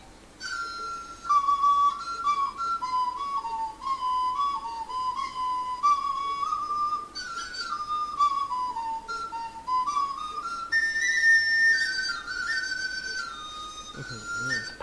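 A bright, breathy Thai bamboo fipple flute plays a wandering melody of sustained and sliding notes, close and steady, with no voices.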